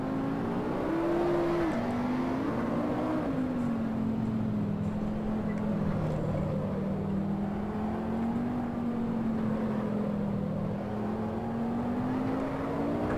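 A racing car engine in the Assetto Corsa video game drones continuously in career mode, its pitch wavering gently up and down through gear changes, loud and steady with no talk.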